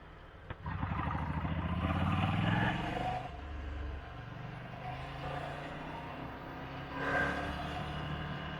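Ducati Scrambler Icon V-twin motorcycle engine while riding: a raw, throbbing rumble that swells briefly, settles to a steadier drone, then rises again, under wind noise.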